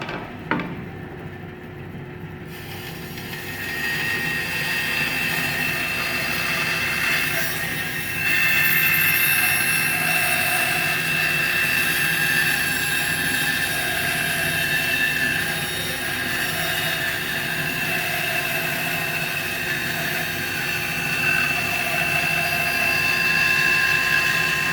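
A bandsaw running steadily through its first cut in a workpiece, a continuous loud mechanical whir with a broadband blade hiss that starts with a sharp click and holds without pause, slightly rising in intensity partway through.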